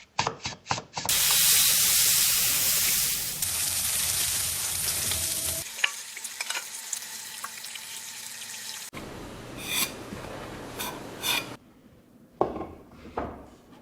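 Kitchen cooking noises: steady loud sizzling and frying, then stirring scrapes, running water and sprays, cut together in abrupt segments with no talking.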